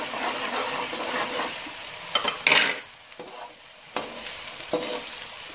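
Garlic and ginger paste for an egg curry masala frying and stirred in a pan: steady close sizzle with scraping stir strokes and a few sharp bursts, no voices.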